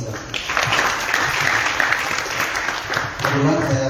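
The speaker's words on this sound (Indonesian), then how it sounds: "Tepuk tangan buat Pak Siddhartha." An audience at an event in Bali applauds steadily for a few seconds in a dense, even wash of clapping, with a voice coming in as it ends.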